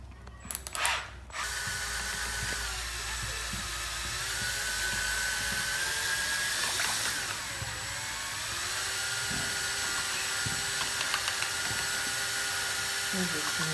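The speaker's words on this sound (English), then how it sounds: "an easy quick fix for this is a wire coat hanger and a drill" A power drill fitted with a bent wire coat hanger stirs a bucket of sealant for a paver patio, giving a continuous, high-pitched whir that holds steady close by for the whole stretch.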